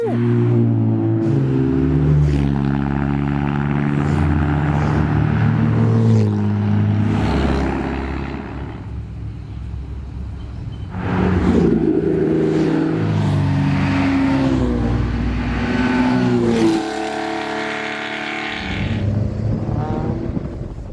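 Classic race cars, including a Ligier, roar past one after another on arrival at Deauville during the Tour Auto, engines rising and falling in pitch as they pass close by, loud and steady throughout.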